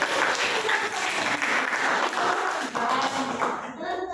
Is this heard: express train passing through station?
no